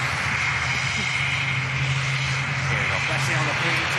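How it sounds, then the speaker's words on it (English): An airliner lands on runway 23 at Manchester Airport, heard as a steady, loud engine roar with a sustained low hum and broadband rush that stays constant throughout. "first final couple of 100 feet now as it touches down on runway 23"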